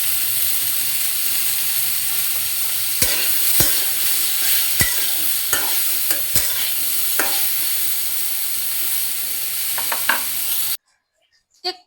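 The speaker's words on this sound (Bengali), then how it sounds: "ভালো করে নেড়ে দিব।" Bottle gourd is being stirred with turmeric in a frying pan, giving a steady close sizzle broken by sharp scraping clicks of the spatula against the pan before the sound cuts off.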